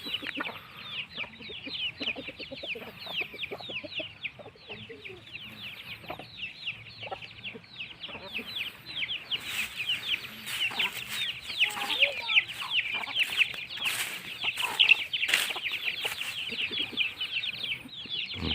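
Free-range village chickens cluck and chatter throughout a morning feeding, many birds calling at once, near and steady, growing busier toward the end.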